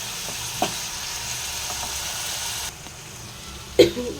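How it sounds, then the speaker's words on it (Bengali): Prawns fry in a nonstick pan with a steady sizzle, broken by a sharp clack of a spatula near the start and a louder scrape against the pan toward the end. "এখানে দেখে নাও চিংড়ি মাছ আমার ফ্রাই হয়ে গেছে"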